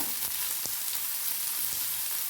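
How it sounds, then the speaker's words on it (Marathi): A large onion sizzles as it sautés in a pan, a soft, steady frying hiss with a few faint stirring scrapes and no voices. "एक मोठा कांदा त्याच्यामध्ये टाकून घेऊया आपण कांदा छान परतून घ्यायचा आहे आपल्याला"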